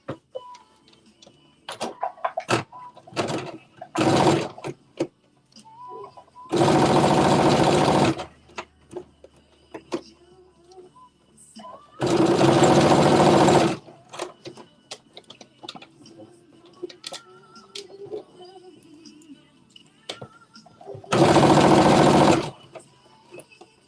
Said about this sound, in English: Now I'm gonna stitch it again, 5/8 of an inch seam allowance.